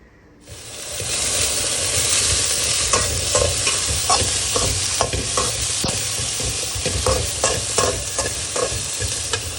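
Ginger, garlic and onion are stir-fried in a pan with a loud, steady sizzle. Irregular scrapes and clicks of stirring punctuate it for about nine seconds, with no voices.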